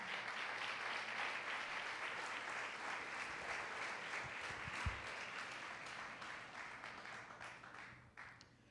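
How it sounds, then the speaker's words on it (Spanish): A church congregation gives a long, steady round of applause at a Sunday service, dense and fairly distant, then thinning out toward the end. "Dale un fuerte aplauso al Señor."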